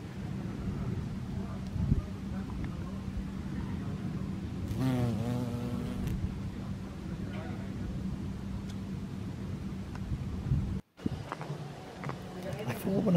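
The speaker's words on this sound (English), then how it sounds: "Called carpenter bees because they burrow into timber to make their nests." A carpenter bee in Corfu gives off a steady, low buzzing drone that runs through most of the stretch amid outdoor wind and background noise, with a brief dropout near the end.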